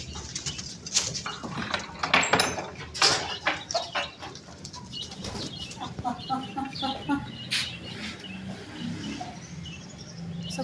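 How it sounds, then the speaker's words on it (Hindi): Egg-laying hens cluck and chatter in a coop, with irregular soft calls and a few louder squawks, fairly close, scattered rustling and movement around them. "इधर है हमारी मुर्गियां अंडे देने वाली है।"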